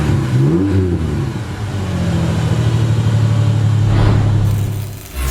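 Ford F-150 pickup with a Magnaflow exhaust revs loudly and close by, the engine note rising and falling, then settling into a steady deep drone before a second rev swells near the end.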